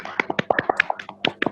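Scattered hand claps from webinar attendees on an unmuted call, uneven and overlapping, with faint talk mixed in.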